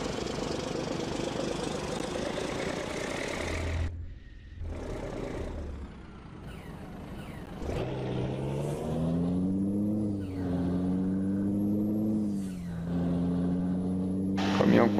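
A Volvo FH16 truck in a driving video game strains uphill on the Serra do Rio do Rastro mountain road, its loud, low engine drone dipping briefly, then rising and wavering in pitch as it labours.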